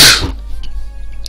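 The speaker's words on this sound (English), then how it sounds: "I thought I had sneezed there" A single loud, close sneeze bursts out at the start, then fades into a quiet room hum.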